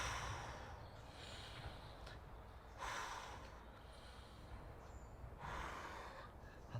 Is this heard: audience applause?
no